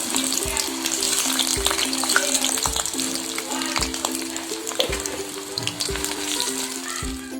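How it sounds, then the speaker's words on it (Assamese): Potatoes frying in hot oil in a pan while an omelette curry is being cooked, giving a steady close sizzle with soft scraping and stirring noises over it. "আলুকেইটা ফ্ৰাই কৰি লওঁ।"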